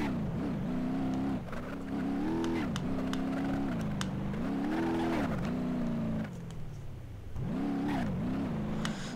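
A Renault 5 Turbo in the BeamNG Drive game accelerates at full throttle, its engine note climbing in pitch again and again through gear changes, with a brief drop-off before it winds up once more, loud and continuous.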